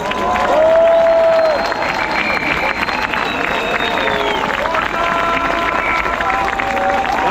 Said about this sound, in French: une nouvelle fois on peut applaudir et surtout on peut encourager les agriculteurs en lutte